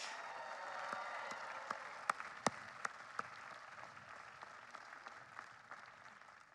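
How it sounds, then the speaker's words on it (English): A graduate commencement audience at UMass Boston applauds after a student speech, with a broad wash of clapping fading gradually, a few sharp individual claps standing out near the middle. "Let's give Charlotte another round of applause for that brilliant speech"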